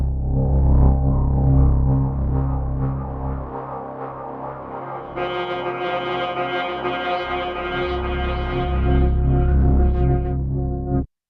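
A sustained synthesizer drone in Ableton Live 11 hums with layered tones; midway it brightens as repeating delayed echoes stack up, then cuts off abruptly.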